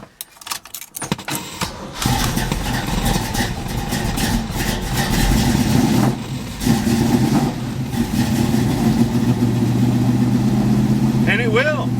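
Old junk car engine fed squirted gas and started with a jump pack: rough sputtering starts, then the motor catches and runs steadily and loudly up close, with someone talking over it.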